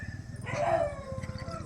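Dogs howl and yip, a wavering mid-pitched cry rising over a background of murmuring voices and low rhythmic noise.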